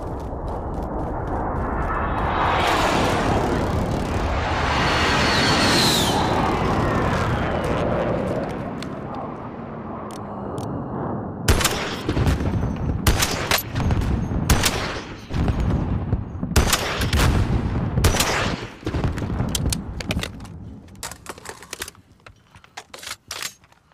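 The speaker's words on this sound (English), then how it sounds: "Enemy precision airstrike. Take cover." Precision airstrike explosions in the shooter game Call of Duty Warzone: a long rumbling, roaring blast swelling then fading over about ten seconds, followed by a rapid series of sharp cracks and bangs like gunfire, loud and close.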